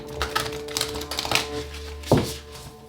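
A deck of Oracle of Pluto oracle cards riffled close by in a quick rattling flurry of small clicks, ending with a single firmer tap as the cards settle.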